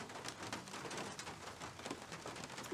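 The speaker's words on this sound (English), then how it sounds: "Oh, sounds like we have some rain outside." Rain falls outside in the cozy farming game Sunshine Farm, a soft continuous patter of drops with faint cooing birds underneath, quiet and even throughout.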